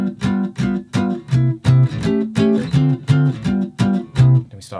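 An instrument plays a jazz chord turnaround, a steady sequence of rhythmic chord stabs moving through changing harmonies, close and loud with no talking.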